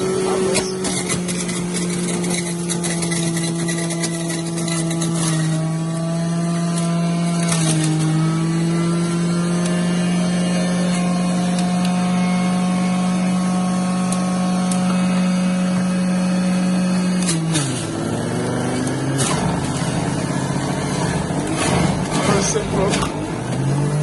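An electric juicer juicing apples gives a loud steady motor whine that shifts pitch as fruit is pushed through, running continuously with a voice talking over it.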